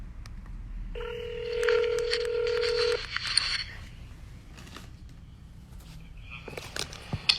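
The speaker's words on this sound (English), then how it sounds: "here is the phone call" Telephone dialing tones ring out clearly, a rapid series of touch-tone beeps followed by ringback, for a call to a doctor about a mother's mental health, with faint background noise and no talking.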